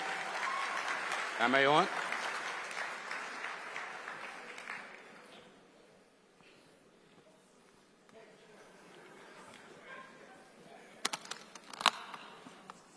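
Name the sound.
audience applause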